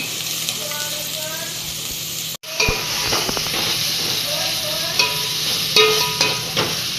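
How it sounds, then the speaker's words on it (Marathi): A spoon stirring masala rice with potatoes and peas in a pan, with an irregular scraping rhythm over a steady steam hiss, briefly interrupted, then continuing close and moderately loud. "हे सगळं एकजीव करायचं आहे आपल्याला"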